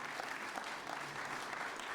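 Steady, fairly faint applause from an audience at a mayor's State of the City address, continuous clapping heard from a distance without any voices over it.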